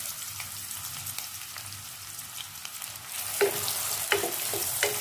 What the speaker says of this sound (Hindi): तेल हमारा गर्म हो गया है, मैं इसमें डाल रही हूँ 2 मीडियम साइज के कटे हुए प्याज